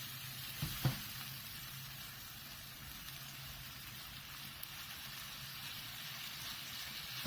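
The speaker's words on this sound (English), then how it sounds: "हमें बस जब तक भूनना है जब तक हमें लगे कि जो टोमेटोज है वो सॉफ्ट हो गया है." Chopped tomatoes fry in a pan with a soft, steady sizzle and crackle, plus a couple of brief stirring clicks near the start, with no talking.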